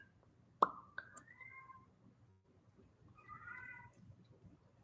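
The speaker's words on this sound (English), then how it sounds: "If you guys hear meowing" A soft cat meow follows a sudden plop, then a second quieter meow a few seconds later, both faint against a quiet room.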